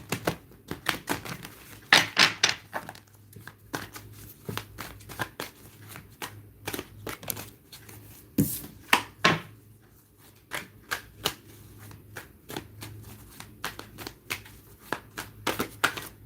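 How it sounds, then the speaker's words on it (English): Rapid riffling and flapping of a deck of oracle cards being shuffled, in repeated bursts of crisp clicks, close up with no talking. "I want to make sure these are shuffled."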